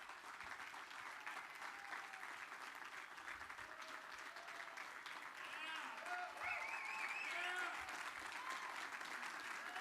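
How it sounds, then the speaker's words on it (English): Press members at a tax policy news conference clap, a sustained patter of applause from a small crowd that swells toward the end. "some of the press was actually clapping"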